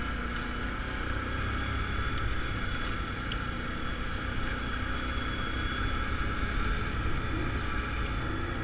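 A Can-Am Outlander 800 XTP ATV engine running while being ridden along a lakeside trail: a constant, even motor drone with a rushing, wind-like roar layered over it, steady and unbroken the whole time.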